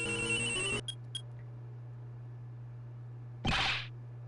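A phone rings in the video game Ace Attorney Investigations 2: a short electronic tonal ring with a couple of brief blips, then a separate bright burst later over a steady low hum.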